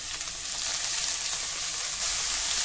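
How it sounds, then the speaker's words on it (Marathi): Onion and tandulja greens stir-fry in a pan over a high gas flame, giving a loud, steady hiss of sizzling close by, with no talk over it. "आता गॅसची फ्लेम आपल्याला मोठी करायची आहे आणि मोठ्या गॅसवर आपल्याला हे परतवून घ्यायचं आहे"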